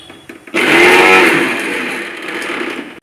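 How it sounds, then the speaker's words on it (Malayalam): A mixer grinder starts up loud and whirs steadily, grinding cooked chickpeas with green masala into a paste; the motor tone shifts slightly as the load settles, with no talk over it. "വെന്ത കടലിൽ നിന്ന് കുറച്ച് ഞാൻ എടുത്തിട്ട് അരച്ച് ചേർക്കാൻ പോവാം"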